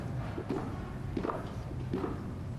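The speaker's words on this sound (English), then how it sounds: "We can hear the footsteps" Footsteps descending stairs from the crypt in the US Capitol during a presidential inauguration, a few soft irregular steps on a hard floor heard at a moderate distance over a steady crowd-room murmur.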